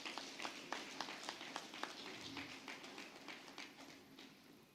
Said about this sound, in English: I would like you to make a huge round of applause for